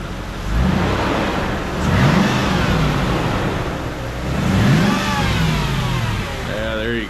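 Mercedes-Benz ML430 engine revved twice after an oil change, each throttle blip rising and falling over a steady idle, close and loud, with a voice speaking over it.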